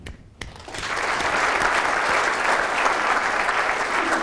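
Loud, sustained applause from a large audience at a city's 2014 State of the City address, starting after a brief sharp clap and swelling into a dense, steady roar of clapping that continues to the end.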